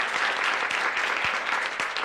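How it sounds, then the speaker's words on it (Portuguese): Students at CIEP Dr. Ulisses Guimarães, a school, give applause to guest Marcos Palmeira, steady, dense clapping filling the room without a break and no talk over it. "uma salva de palmas para o Marcos Palmeira, nosso convidado"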